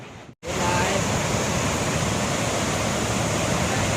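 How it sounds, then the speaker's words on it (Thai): The Xe Pong Lai waterfall in Attapeu, Laos, roars as a steady, dense rush of falling water close by, filling the scene after a brief cut near the start. "ตอนนี้เรามาถึงที่ บริเวณ น้ำตกแซปองลายซึ่งเป็น น้ำตกที่ ภู"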